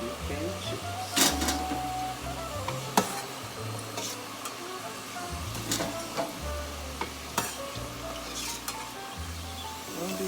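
UK-style chips on their second fry in hot oil, a soft continuous sizzle with occasional clattering knocks from stirring or a basket, faint and close, with no talk.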